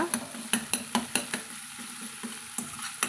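Ginger garlic paste sautés in oil for a Navaratri pattani masala sundal, a steady close sizzle broken by regular sharp scrapes and taps of a spoon against the pan.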